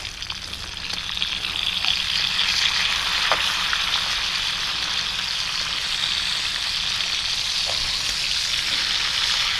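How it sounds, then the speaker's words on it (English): Thick-cut bacon and eggs fry in a pan outdoors at a state park, a constant loud hiss and crackle with occasional sharper pops, steady throughout with no talking. "Cooking up some bacon and eggs this morning."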